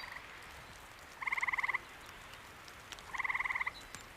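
A frog croaks in two short rattling bursts separated by a pause, each a rapid pulsed trill, heard close and clear over a quiet background hiss.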